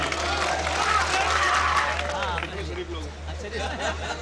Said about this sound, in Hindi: एक बार अब अपने लिए जोरदार तालियां बजा लीजिए